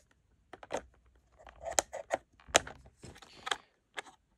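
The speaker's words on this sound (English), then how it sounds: "So successfully chop the top." Scissors snip through plastic packaging of a Petzl Actik Core head torch in a series of sharp, close, irregular cuts and crinkles, fairly quiet with no talking.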